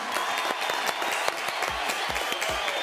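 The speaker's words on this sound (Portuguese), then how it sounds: "Quero aplausos para nossa chefe, Jéssica Liberal" Studio audience of a morning talk show applauding in a steady, even burst of clapping for a few seconds, fairly loud and without talk.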